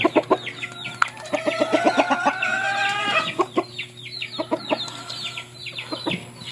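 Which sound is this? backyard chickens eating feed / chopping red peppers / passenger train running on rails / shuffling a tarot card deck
backyard chickens eating feed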